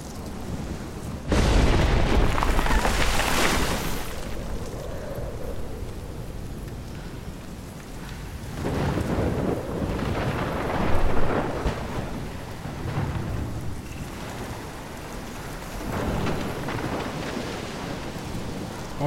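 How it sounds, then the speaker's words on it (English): Thunderstorm in the video game Life is Strange, with a loud thunder crack and steady rain, followed by further rolling rumbles of thunder over continuous rainfall. "I've never seen a storm like this in Oregon."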